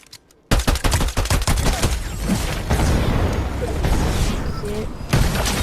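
Gunfire in the Fortnite video game, with a pump shotgun picked up: a rapid burst of sharp shots followed by continuing loud battle noise, close and dense.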